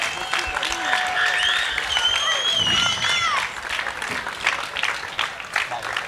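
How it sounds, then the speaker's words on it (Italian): Applause from a crowd at an international folklore festival evening, steady clapping through the whole stretch with some tonal music or whistles rising above it early on. "Un applauso, grazie."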